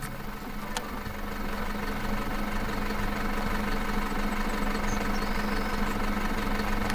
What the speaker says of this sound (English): There's the tractor going off to get the planter.